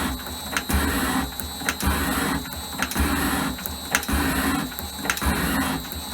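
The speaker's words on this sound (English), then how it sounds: "This machine's it's called a high-speed shaper." A high-speed metal shaper machine runs in a repeating cycle. Its steady motor whine is broken by regular rhythmic strokes about once every second, each ending in a sharp clack.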